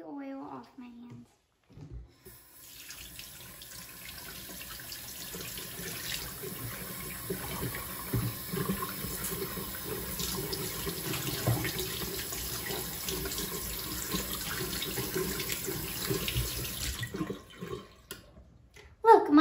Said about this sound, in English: Now I'm going to quickly wash my hands and see if I can get all the oil off my hands.